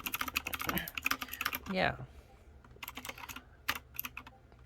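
Rapid clicking keystrokes from a Matrix 65% mechanical keyboard in blue, typed in quick bursts close up, with a brief spoken word near the start.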